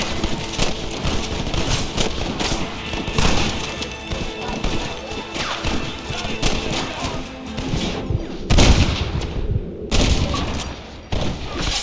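Chaotic shootout in the western video game Red Dead Redemption, with dense overlapping gunshots, thuds and impacts, loud and continuous, broken by a couple of brief lulls.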